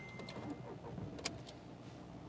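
A diesel Volkswagen Polo, 2021 model, with its engine starting and running at a steady idle close by, a brief click partway through, no talking.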